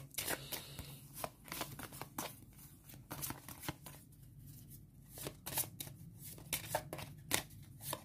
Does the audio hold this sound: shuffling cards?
yes